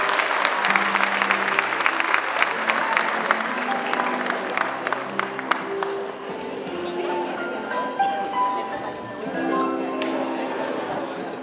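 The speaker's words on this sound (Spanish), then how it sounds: "Fuerte, cariñoso, los aplausos." An audience applauds at a school Teachers' Day ceremony, loud sustained clapping that gradually thins out, with a voice speaking over it and a few scattered cheers.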